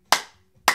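Two separate hand claps spaced about half a second apart, sharp and close, with silence between them, part of a slow clapping game in a music class.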